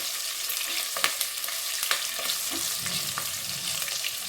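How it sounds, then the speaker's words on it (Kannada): Capsicum and chillies fry in a pan, a close steady sizzle with a few crisp stirring clicks and scrapes scattered through, no voices. "ಸ್ವಲ್ಪ ಡೀಪಾಗೆ ಫ್ರೈ ಆಗಲಿ ಇದು."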